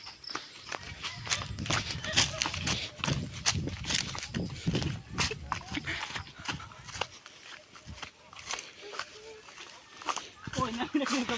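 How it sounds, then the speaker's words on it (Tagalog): Horse hooves clip-clop in irregular steps along an overgrown rural trail, fairly close, mixed with footsteps and rustling, while people talk over them at times. "Oh, nakinig ng kabayo guys."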